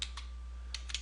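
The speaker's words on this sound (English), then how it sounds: "we're just going to simply type in the name here" Several quick keystrokes on a computer keyboard, a light short burst of taps with a pause in the middle, close and quiet over a faint steady electrical hum.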